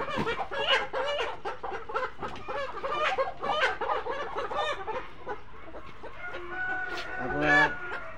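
Caged chickens cluck and squawk close by in a dense, overlapping chorus of sharp calls that continues for several seconds, with one louder burst near the end.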